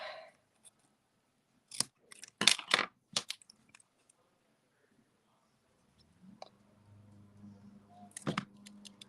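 Scissors snip through paper for a quilted stamped card: a few sharp, close cuts in quick bursts, then quiet, then more snipping and light handling of paper, with no talk.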